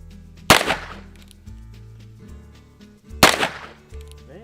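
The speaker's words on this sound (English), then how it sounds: "Seems to shoot a little bit left." Two loud, sharp gunshots from a Heritage Rough Rider revolver fired outdoors, about three seconds apart, each a close crack with a short decaying tail over faint low background hum.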